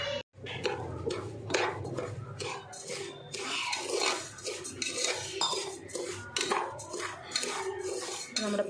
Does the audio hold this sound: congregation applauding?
no